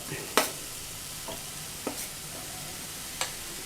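Chopped raw papaya stirred in a hot pan for a Kerala thoran, a soft low sizzle broken by a few sharp scraping clicks of the spoon against the pan, close and fairly quiet, no voices.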